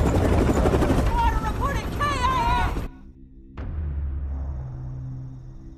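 A helicopter rotor thrums steadily in a film about a man-made natural disaster. Its low pulsing drone sits under a voice at first, then drops out briefly and returns alone.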